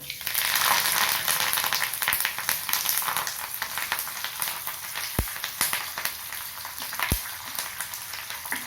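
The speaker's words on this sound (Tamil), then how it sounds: "இப்போ கருவேப்பிலையை போட்டு நல்லா வறுத்து எடுக்கலாம்" Curry leaves frying in melted Dalda vanaspati over a low flame, a steady broadband sizzle that is loud at the start and eases a little, with a few sharp ticks and pops, no talk.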